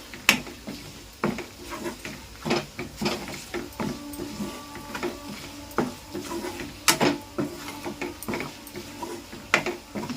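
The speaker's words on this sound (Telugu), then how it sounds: "వెల్లుల్లిపాయ ఇంకా వేపాలండి. ఇలా కలుపుకుంటూ వేపాలండి తాలింపు" Garlic fries in hot oil as a tempering for gongura pickle, with steady sizzling and crackling broken by frequent clinks and scrapes of a spoon stirring the pan, close up with no talking.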